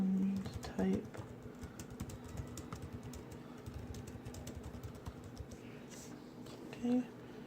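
Quick clicking keystrokes on a Windows 8 computer keyboard, light and close, with a couple of brief louder tonal blips at the start and near the end.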